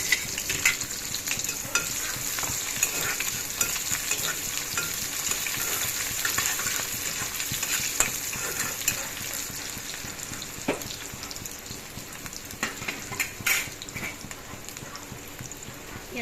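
Onions fry in hot oil in a kadai with five-spice seeds, a steady bright sizzle running throughout with occasional stirring clinks and scrapes.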